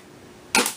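A toilet paper shooting toy blaster fires a single sharp, loud pop with a short airy burst, following a quiet moment with no one speaking.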